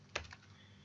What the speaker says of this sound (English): let's type Dedi